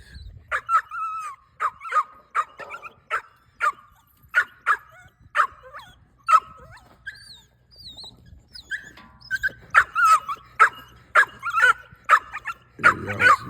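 Pitbull puppies whimper and yip in a rapid string of short, high-pitched cries and small barks, close by, with brief pauses between bursts.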